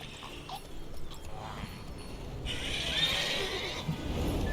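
A horse whinnying while ridden in The Witcher 3, a neigh rising over a constant rushing game soundscape, moderately loud, no speech.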